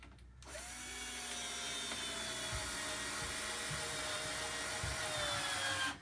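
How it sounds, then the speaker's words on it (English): A power drill driving a Robertson screw through a 2x4 into a plywood seed-starting table, a steady close whine that starts abruptly and runs for several seconds with a few thuds of wood contact before stopping. "And I'll sink one on one end, and then I'm going to go down the end just to secure this 2x4 to the plywood"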